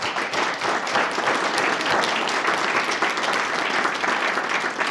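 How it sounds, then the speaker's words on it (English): Audience applauding a panel of young artists at an evening exhibit discussion, dense sustained clapping from a roomful of people, loud and continuous for several seconds. "I'd like to give our panel a round of applause."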